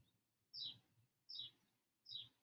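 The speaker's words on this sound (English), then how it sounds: "So if you hear birds and other ambient noises, just take it all in." Three short, bright bird chirps repeat evenly outdoors beside a house, each call distinct and fairly faint over a quiet background.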